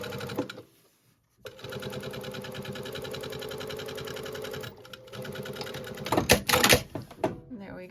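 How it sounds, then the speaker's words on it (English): A sewing machine runs a rapid, steady stitching rhythm down the center of a piece of fabric in two bursts separated by a short pause, close and prominent, followed by a few clattering handling sounds. "I also know I want to stitch down the center of this fabric"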